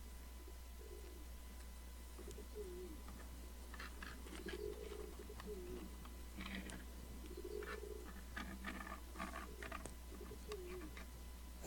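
A pigeon coos in the Gabriel Knight 2 video game, several soft rolling coos repeating over a faint steady hum, with light pattering and clicks between them and no talking.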